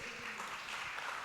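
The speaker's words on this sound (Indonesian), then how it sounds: "Tepuk tangan bagi Tuhan Yesus." Faint, brief applause from a church congregation during a Sunday worship service, a soft, even patter of hands that sounds distant.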